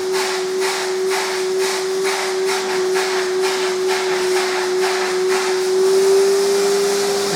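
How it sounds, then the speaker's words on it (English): A skyVac Atom gutter vacuum sucks debris from a gutter. Its steady, close-up roar carries a constant high tone, with rhythmic rushing pulses as the hose nozzle is bounced up and down. "suction, you can hear it trying to suck onto it."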